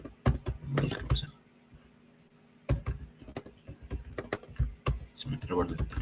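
Fingers type on a computer keyboard in quick clusters of sharp, close clacks with a short pause, while a person talks intermittently.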